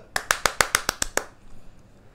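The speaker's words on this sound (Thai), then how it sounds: "งั้นก็ขอเสียงปรบมือให้กับไฟช็อตหน่อย" Eight sharp, evenly spaced hand claps, close and fairly quiet, with a steady rhythm that stops abruptly and leaves near silence.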